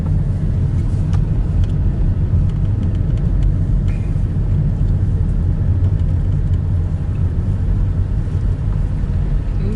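A car drives along a road in East Palatka, Florida, its steady engine and tire rumble filling the cabin continuously and fairly loud, with no talk.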